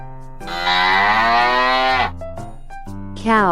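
A cow lets out one long, loud, drawn-out moo lasting about two seconds, over a faint steady musical tone, followed by quieter low sounds.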